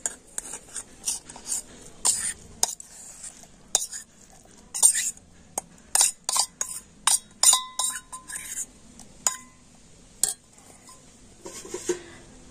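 Semolina goes into a mixer-grinder jar in a home kitchen, heard as a series of sharp clinks and taps of a spoon against the jar and dishes, scattered irregularly, close and fairly quiet with no talking.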